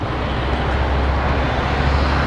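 Yamaha Xmax 250 scooter engine pulling away smoothly, a steady loud low drone mixed with broadband wind rush, close and continuous with no talk.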